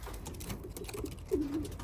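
Pigeons in a loft coo once, a short low warbling call near the end, over steady loft background noise.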